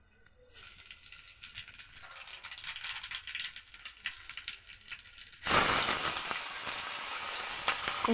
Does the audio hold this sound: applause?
no